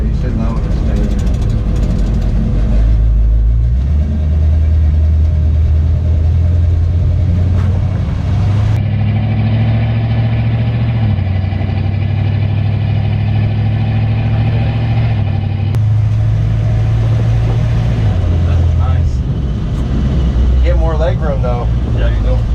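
A ratrod Chevy truck's engine drones low and loud throughout a ride, its pitch stepping up and down through gear changes, while people talk in the cab over it.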